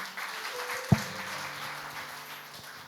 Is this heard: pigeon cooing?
no